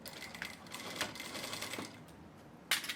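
A sewing machine runs in a steady, close-up whir as it stitches a safety seam near the edge of a handmade bag with a French braid, with a few louder clacks of the mechanism.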